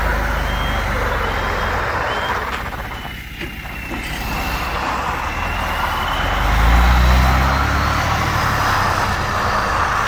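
Truck reversing beeps sound through continuous outdoor engine noise at a terrace delivery, a repeated electronic beep with a low rumble beneath and a swell of engine noise partway through.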